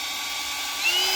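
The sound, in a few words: Harbor Freight drill-operated pump pumping antifreeze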